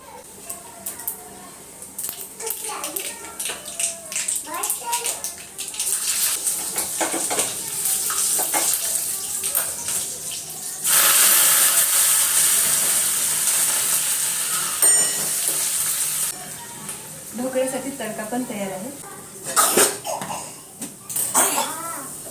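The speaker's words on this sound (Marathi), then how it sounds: "आता ना तडका तयार करते ढोकळ्यावरती टाकायला" Hot oil tadka for rava-besan dhokla crackles and hisses in a pan, a loud steady sizzle that swells midway, with someone speaking and a voice around it and some clinking of utensils.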